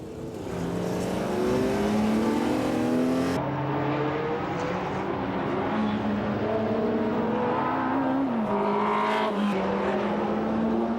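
Historic race cars, including a Ferrari, accelerate hard during the 2004 Tour Auto, engines climbing through rising gear notes with a shift and a second car joining, loud and close.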